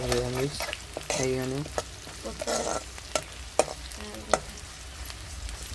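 Kanda pohe being stirred in a pan, a spoon scraping and tossing the flattened rice in several close, uneven strokes over a soft sizzle, with a few sharp taps against the pan and no talking.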